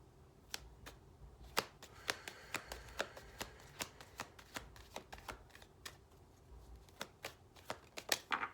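A numerology tarot card deck being shuffled by hand, a quick run of sharp riffling snaps and flicks repeating irregularly throughout, close and crisp over a quiet background.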